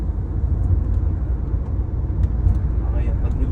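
Steady low engine rumble of a Renault Grand Espace 5 cruising and gently picking up speed, heard from inside the cabin, smooth and even throughout.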